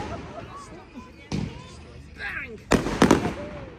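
Bonfire Night fireworks going off, a few sharp bangs and crackling bursts at mid distance, heard among background chatter and voices.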